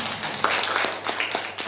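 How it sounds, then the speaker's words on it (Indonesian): A church congregation applauds in a quick burst of hand claps, a dense scattered patter that sounds close and fairly loud and carries on steadily for the short stretch. "Tepuk tangan buat Tuhan."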